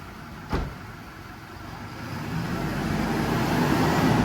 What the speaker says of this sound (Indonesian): Ini cuma kedengaran suara mesin ya